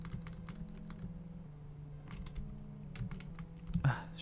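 Computer keyboard keys pressed rapidly while playing a video game, a run of quiet, irregular clicks and taps over a low steady hum, close and fairly soft.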